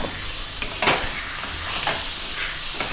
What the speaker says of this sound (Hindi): 2 से 3 मिनट तक अच्छी तरह भून के लेंगे।